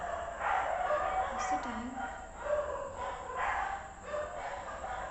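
A dog barks repeatedly in the middle of the night, around 2:30, its bow-wow yips carrying through a room under steady background noise while a person speaks over it.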